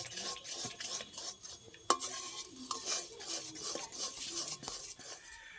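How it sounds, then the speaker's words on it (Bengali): A spoon stirs green raw mango jelly with food colour in a pan, giving soft rhythmic scraping and light sizzling close by, with one sharp metal clink. "ভালো করে মিশিয়ে নেব।"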